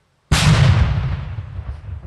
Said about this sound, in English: Invercargill's parade also featuring the unique sound of a First World War cannon